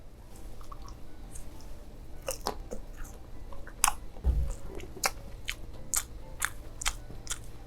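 Close-up chewing of lightly sauced boneless Korean fried chicken, with repeated crisp bites and crunches followed by soft, wet mastication, recorded intimately in ASMR style without talk.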